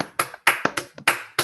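A few people clapping over an online talk, about seven sharp, separate claps in an uneven rhythm, close and fairly quiet.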